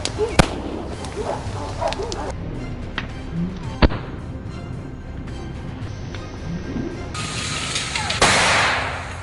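A series of gunshots on a farm during a wild boar attack: several sharp, loud cracks spaced irregularly, heard over outdoor background noise with rustling and a rising rush at the end.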